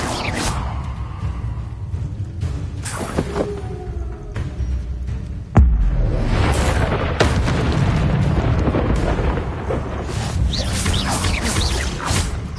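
An Incendio fire spell from Hogwarts Legacy bursts out with a whooshing roar, then a loud, sustained fiery rush and rumbling booms that fill the scene.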